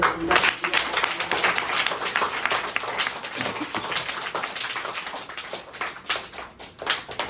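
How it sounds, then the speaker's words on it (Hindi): Audience applause after a speech, a dense wash of clapping with scattered sharper claps, steady and moderately loud over seven seconds, tapering slightly before a final burst. "तो सबसे पहले बहुत जोरदार तालियों से"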